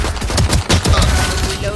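Automatic gunfire in a Valorant match, a rapid close burst of shots with distinct cracks, loud throughout the short stretch.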